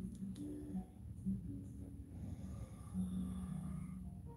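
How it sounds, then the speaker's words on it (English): A man snoring loudly indoors, low rumbling snores repeating in a steady rhythm of long drawn breaths, close and continuous. "he just snores and snores and snores"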